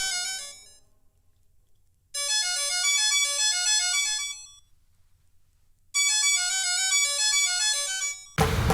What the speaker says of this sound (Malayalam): അച്ഛാ ഫോൺ.